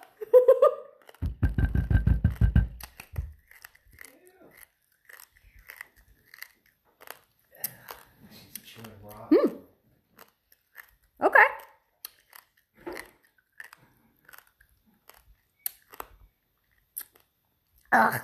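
Crunching bites into a fried black scorpion, a dense burst of crisp crackling close to the mouth followed by quieter, sporadic chewing and soft sounds, with a voice briefly at the start.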